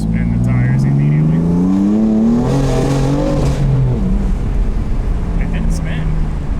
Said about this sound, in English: Now I'm just going to spin the tires immediately.